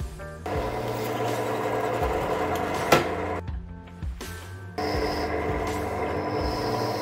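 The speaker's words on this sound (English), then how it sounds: "I drilled the holes on both the short and long legs" A drill bores holes through the short and long legs of a homemade bicycle wheel truing stand, a steady whirring motor drone that briefly dips and catches before resuming at full strength.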